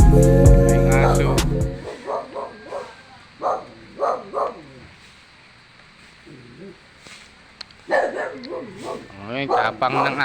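A dog barks in short, sharp bursts at a nearby home, with pauses between volleys, while people talk loudly over and between the barks.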